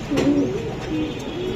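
Racing and Damascene pigeons kept for sale coo in low, throaty, repeated calls, close by and fairly steady throughout, with no talking.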